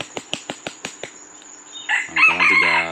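A jungle fowl gives a series of about six short sharp notes, then breaks into a loud, drawn-out crow close by, with some wing flapping.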